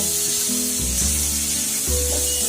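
Onion browning in oil in an iron pan: a close, steady frying hiss and sizzle with a low hum running underneath, continuous and without speech.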